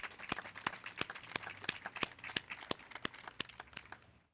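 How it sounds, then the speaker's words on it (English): At an Expo '74 50th anniversary press conference, a small group claps in separate, evenly spaced sharp claps, quiet and sparse rather than a full crowd. "can we all give them a round of applause?"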